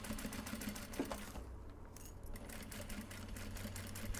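Sewing machine stitching along the flap of an upcycled obi and kimono bag, a steady rapid motor whir with needle ticking in short bursts, briefly pausing mid-run before resuming, close and clear without talk.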